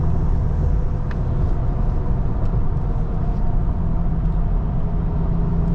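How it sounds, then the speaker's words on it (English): A 2016 Ford Expedition XLT 4x4 merges onto a freeway, heard as a steady, loud low rumble of engine and road noise from inside the cabin, unbroken and without speech. "And we merge into the freeway safely."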